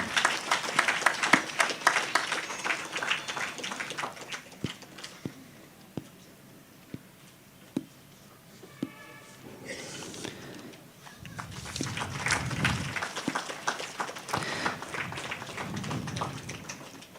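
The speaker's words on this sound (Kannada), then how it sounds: "ನಿಮ್ಮ ಕೈ ಚಪ್ಪಾಳೆಗಳೊಂದಿಗೆ" Audience clapping at a live church feast-day ceremony, scattered claps at first, then a swell of broad applause from the crowd building and holding to the end.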